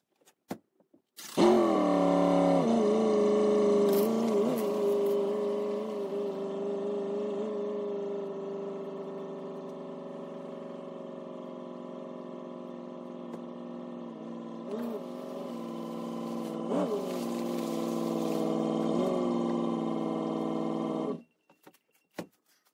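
A pickup truck with a hitch-mounted Saltdogg salt spreader runs its spreader motor while driving back and forth, giving a steady mechanical whine and engine hum that starts abruptly, holds for about twenty seconds, then cuts off.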